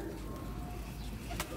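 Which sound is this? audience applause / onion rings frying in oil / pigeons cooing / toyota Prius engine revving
pigeons cooing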